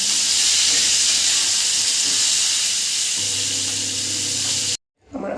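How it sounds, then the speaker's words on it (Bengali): Potato, flat beans and eggplant fry in hot oil in a pan, giving a loud, steady, hissing sizzle that carries on for several seconds before cutting off abruptly near the end. "আলু শিম বেগুনটা ভাজা হয়ে গেছে"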